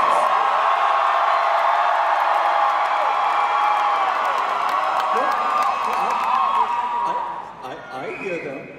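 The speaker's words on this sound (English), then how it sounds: "did you not hear how loud and raucous this crowd is?" Loud, raucous crowd at an Anime Boston cosplay event, cheering and whooping in a dense continuous roar that eases slightly near the end, with voices mixed in.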